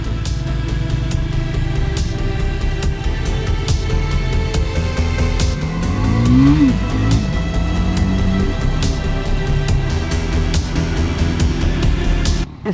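A Triumph Tracker 400 motorcycle pulls away in first gear, its engine note rising in a steady, close drone that climbs in pitch around the middle before settling back, with no talking over it.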